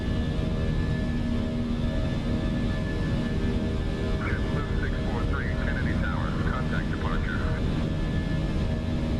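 Airliner engines roar at takeoff rotation on a JetBlue flight departing JFK, New York, bound for Bonaire: a loud, steady broadband rumble filling the whole clip, with a few faint chirping tones partway through.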